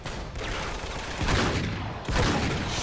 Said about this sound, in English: Nice noisy gun there as well.